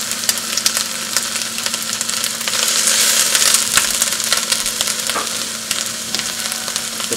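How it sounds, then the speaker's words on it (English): Half an onion hits a hot pan already holding cabbage for stuffed cabbage, giving a steady close sizzle and frying hiss that swells briefly in the middle, with no voices. "I'm going to add about half of an onion."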